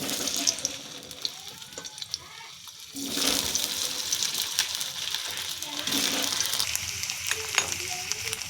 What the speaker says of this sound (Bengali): দিয়ে দিয়েছি তেল, এবার আলুগুলি দিয়ে ভেজে নেব